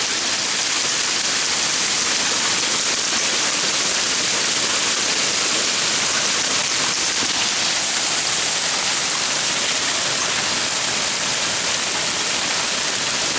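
Hail pelting down in a heavy night thunderstorm, a dense, unbroken roar of hard impacts and rushing water that stays loud and even throughout.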